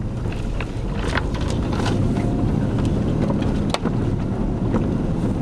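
A 4WD descends a steep, loose, overgrown bush track in second gear low range, its engine a steady low drone mixed with wind buffeting and rumble, continuous and close throughout.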